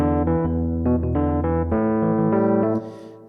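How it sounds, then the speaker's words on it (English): Old Wurlitzer electric piano with metal reeds playing mellow sustained chords, close and clear with no voices, the notes changing every half second or so before fading at the end. "Wurlitzer electric piano."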